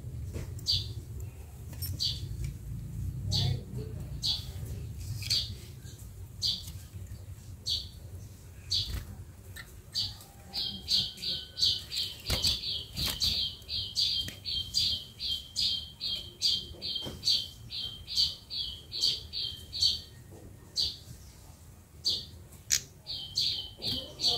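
A caged prinia (prenjak) calls persistently with sharp, repeated squawking chirps, breaking midway into a fast, close, loud trilling burst before returning to spaced calls, with no voices.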